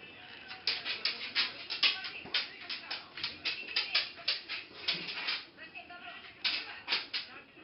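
A Silky Terrier whimpers during grooming in a series of faint, high yips and whines, with a person talking quietly alongside.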